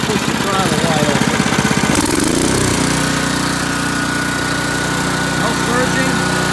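A Honda HS55 snowblower engine fitted with a cheap Chinese carburetor revs from a rough idle up to wide-open throttle, settling into a loud, steady, even drone without surging.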